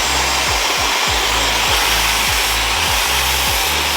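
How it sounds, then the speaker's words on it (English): A handheld hair blow dryer runs continuously at close range while a round brush works through hair, giving a steady loud airy roar with repeated low rubbing pulls of the brush. "I don't want to turn the blow dryer off."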